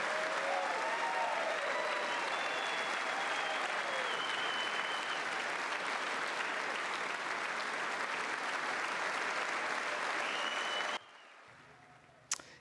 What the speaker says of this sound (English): Williams was met with an applause that lasted about 2 minutes.